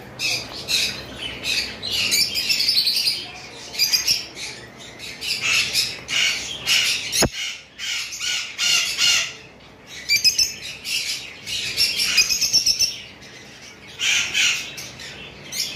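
Lovebirds in pairs squawk continuously in a bird shop, a dense chorus of shrill, overlapping calls that rise and fall in bursts with a sharp click near the middle, no talking.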